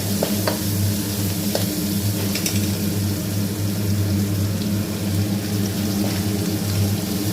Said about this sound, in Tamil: ரெண்டு கொட்டு கருவேப்பிலை உருவி போட்டு அதை நல்லா வதக்கி விட்டுக்கோங்க